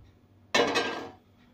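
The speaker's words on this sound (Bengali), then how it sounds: "গ্যাসটা অন করে কড়াইটা বসিয়ে।" A wok (kadai) is set down on a lit gas stove in a home kitchen while a mango drink is being made. It gives a single sharp metallic clank up close that rings briefly and fades, with no talking.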